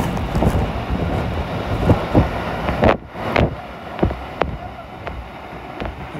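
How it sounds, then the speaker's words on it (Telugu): A large waterfall in Wayanad gives a steady, loud broadband roar of rushing water, with wind buffeting the microphone and several sharp bursts breaking through. "చాలా పెద్ద వాటర్ ఫాల్."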